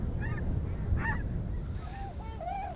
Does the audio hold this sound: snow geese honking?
yes